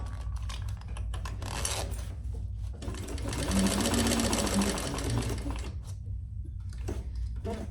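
A sewing machine stitches through leather around the inner zipper box of a crossbody bag, running in close, rapid bursts with short pauses and one longer steady run in the middle; no talking.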